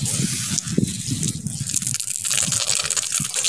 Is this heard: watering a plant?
yes